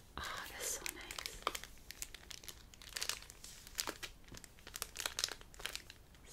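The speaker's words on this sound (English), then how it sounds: "Such a soft, gentle crinkle." Close, quiet crinkling and crackling of food packaging from the USA during an ASMR unboxing, in irregular soft bursts, with soft whispering alongside.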